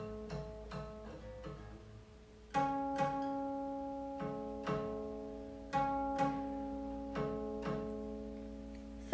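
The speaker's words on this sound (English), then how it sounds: "The 3rd string at 5th hui should sound the same as 6th string at 7th hui." The third string of a guqin is played at the fifth hui during tuning. It sounds as a long run of plucked notes, first light and quick, then louder evenly spaced plucks that ring on and overlap, with no voices.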